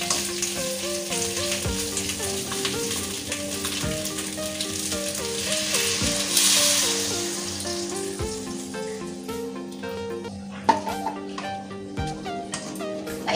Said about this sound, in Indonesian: Masuk ayamnya ya. Kita aduk-aduk dulu.